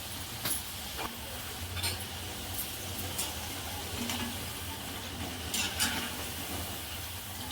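Onion bhaji frying in oil gives a steady, soft sizzle with a bubbling hiss. It is close and fairly quiet, with occasional light clinks from the pan.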